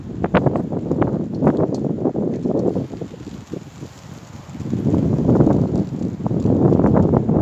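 Wind gusting through a wet winter woodland camp, a steady broadband rush that swells and eases over several seconds, loud and close to the microphone, with a brief spoken line from a man over it.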